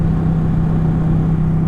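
Ducati 899 Panigale motorcycle engine idling steadily up close, a constant low hum with a strong tonal drone and no talking.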